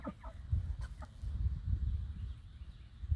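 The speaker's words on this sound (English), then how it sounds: "That little chick noise." Cornish Cross broiler chicks peep in short, thin bursts near the start, then fade under a steady low rumble and background noise.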